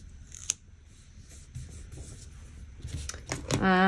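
Scissors snip paper for a planner in a few quiet cuts with rustling in between, and a voice talks over part of it.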